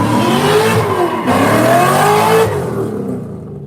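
A Chevrolet Corvette C6 revs hard during a burnout at a car show, its loud, rough engine roar holding steady before easing off and fading at the end.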